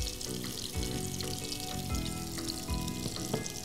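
Onions frying in a cooker, a dense, steady hiss of sizzling oil with soft bubbling and a few faint knocks; no talk.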